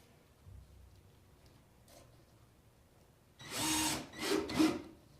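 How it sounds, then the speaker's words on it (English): A power drill drives a screw into a wooden model railroad module frame, with a few short, close whirring bursts after a quiet start. "Drill it"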